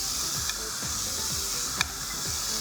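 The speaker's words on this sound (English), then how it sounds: "We're going to get them cooking. Nice sizzle on that." Small garlic BBQ prawns sizzle in a pan, a steady close hiss with a couple of brief pops or stirring clicks and no voices.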